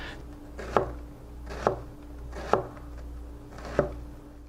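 Four evenly spaced knife chops through an onion on a cutting board, each a sharp close thud about a second apart, over a low steady background hum with no talking.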